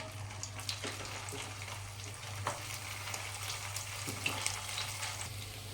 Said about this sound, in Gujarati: હવે આપણે એ રીતના બીજી પણ ફ્રાય કરી લઈએ.